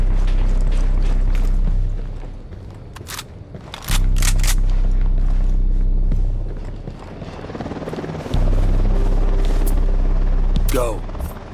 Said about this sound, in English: Chopper's approaching near the helipad.